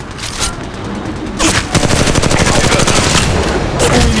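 Gunfire in a ranked Apex Legends Mobile match: a brief early volley, then from about halfway on a loud, sustained stream of rapid automatic shots with dense overlapping reports.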